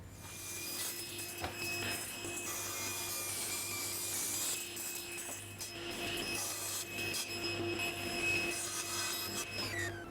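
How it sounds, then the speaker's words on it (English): A table saw runs steadily for about ten seconds, cutting wood pieces to final size and putting angles on them, with a constant motor hum under a rasping, rubbing cut and no pauses. "I'm now going to cut it down to its final size using the table saw and add the angles"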